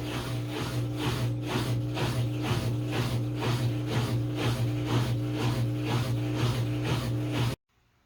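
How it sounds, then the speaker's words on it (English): A GE top-load washing machine, model GTW330ASK4WW, runs its cycle with a low steady hum and rhythmic swishing pulses about twice a second, then cuts off abruptly into near silence. "Waiting for drain and spin."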